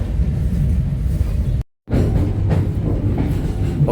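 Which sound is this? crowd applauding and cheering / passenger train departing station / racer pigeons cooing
passenger train departing station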